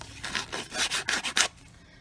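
Six quick rasping rubs of a paper folder's edges against a rough edge to tatter them, close and fairly loud, in a steady back-and-forth rhythm, then quiet.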